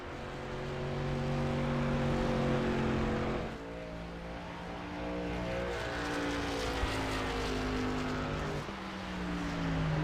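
A sim-racing truck in the SERL Truck Series at New Hampshire drones through turns 3 and 4, its engine a steady loud roar with a rising, shifting pitch, a brief dip, then building again.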